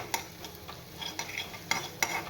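Boiled potatoes stirred and fried in a pan for a fasting-day potato dish: a steady soft sizzle broken by a few sharp scrapes and clinks of a spoon, close and fairly quiet, with no talk.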